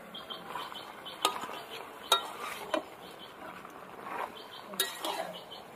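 Deshi chicken with potato and onion cooks in a covered pot without oil, stirred in its own juices; quiet soft scraping broken by a few sharp metal clinks of the spoon against the pot.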